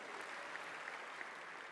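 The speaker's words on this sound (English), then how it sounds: "Let's give a big round of applause for Robert Flores." Audience applause for Robert Flores at an EA press conference during E3, a steady, moderately distant wash of clapping from a large crowd with no talking over it.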